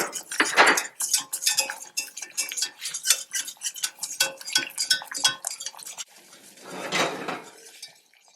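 A utensil scrapes and clinks against a pan in quick, rhythmic strokes as flour is stirred into melted butter, close and fairly loud. A brief pause follows, then a softer, longer scrape.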